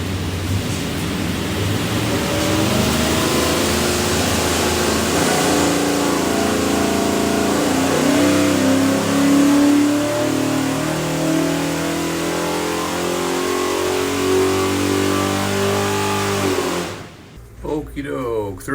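A 427ci Ford FE V8 with a dyno carburetor, run on an engine dyno and built for a '67 Mustang GT500, roars loud and close, climbing steadily in pitch through a long pull before cutting off abruptly near the end.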